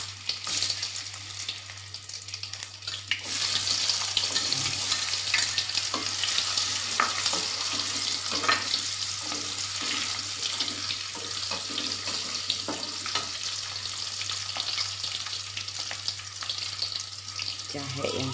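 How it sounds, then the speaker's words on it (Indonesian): Sliced roasted garlic sautéing in a pan for pindang bandeng kecap, a loud steady hissing sizzle that starts abruptly and carries on with light stirring scrapes, over a constant low hum. "Kita tumis terlebih dahulu bawang putih yang sudah dibakar tadi"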